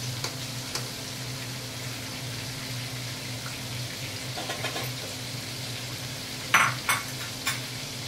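Chicken breast pieces fry in a pan with a steady low sizzle, broken by a few clacks and scrapes as they are stirred loose from the bottom, close and with no voices.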